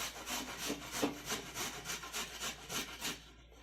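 Raw green mangoes are grated for chutney in quick, even rasping strokes, about a dozen rhythmic scrapes heard up close with no talking.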